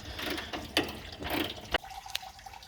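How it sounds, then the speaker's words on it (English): Car bumper bolts being loosened with a ratchet: quiet, close ratcheting bursts and scraping metal clicks, a sharp clack near the middle, then faint tool taps in a hushed garage. "I'm going to start getting this bumper unbolted"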